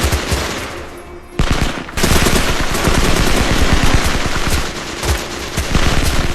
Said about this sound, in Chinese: 舒特带人上前进行补枪，继续对着还有气息的同胞狂暴开火